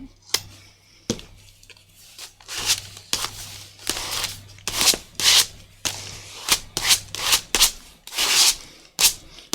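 A scraper drags gesso across craft cardstock in a string of separate rasping strokes, each a short scratchy swipe with brief pauses between, close and fairly loud.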